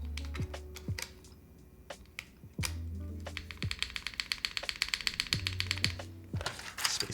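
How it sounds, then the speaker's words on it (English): Rapid, clacky keystrokes on a custom Jris75 mechanical keyboard, including spacebar presses, come in uneven bursts and short runs, close and fairly quiet, over a low tonal hum in the background. "Spacebar actually sounds not too"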